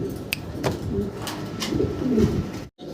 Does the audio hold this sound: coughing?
no